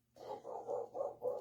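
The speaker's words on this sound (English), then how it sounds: "The dog is barking." A dog barks five times in quick succession, evenly spaced, moderately close but not loud, with no talking.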